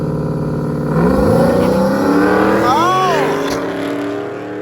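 A nitrous-fed Camaro and a Cadillac CTS-V race side by side on a street drag strip, engines roaring loud and close, with a rising pass-by sweep in the middle before the noise fades.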